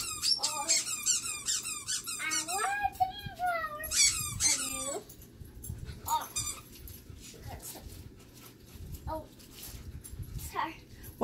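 A dog squeaks a squeaky donut toy outdoors among snow dogs, giving repeated high, rapid squeals in quick bursts, with people talking and a toddler's voice nearby throughout.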